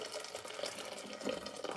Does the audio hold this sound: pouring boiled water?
yes